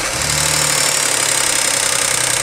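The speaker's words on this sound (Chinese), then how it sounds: "今天呢，两台同病相怜的奔驰车，一个 ML350，一个 S350，同款 H 的发动机，出现了同样的异响。" A Mercedes-Benz M276 V6 engine in an ML350 or S350, with a worn timing chain sprocket, running steadily just after start-up; a loud, continuous idle with a rough mechanical rattle and low hum close by, no talking.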